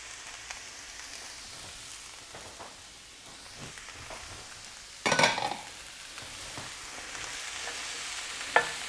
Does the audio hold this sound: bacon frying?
yes